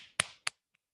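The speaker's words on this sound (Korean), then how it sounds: "박수 스스로한테 주세요." During a group wellness class, participants praise themselves with two crisp, close hand claps in quick succession, followed by a couple of faint taps and quiet.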